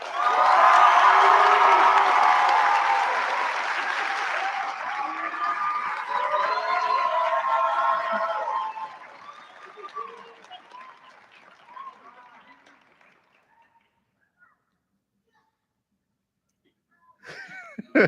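A graduation audience at a high school ceremony bursts into loud applause and cheering, with whoops mixed in. The applause fades gradually over several seconds into near silence, then a few faint claps return at the end.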